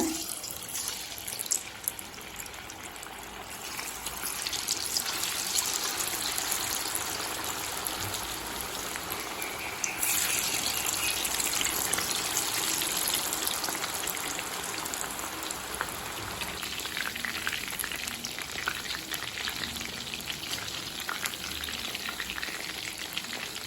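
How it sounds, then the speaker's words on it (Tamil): Continuous crackling sizzle of chicken pakoda deep frying in hot oil over a medium flame, dense and steady throughout, with occasional louder pops and bubbling bursts. "இப்போ எண்ணெயில் போட்டு பொரிக்க ஆரம்பிச்சிடலாம்"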